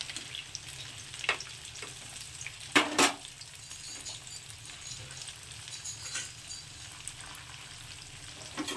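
Raw potato and semolina snacks fry in oil in a pan, a steady close sizzle with light crackle throughout and a few louder clinks and bubbling bursts near the middle; no one speaks.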